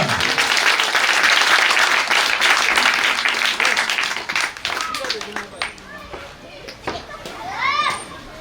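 A congregation at a joint Christmas Day service at Riviera Palmeraie breaks into loud, dense applause and cheering for several seconds. It then thins out into scattered claps and children's voices.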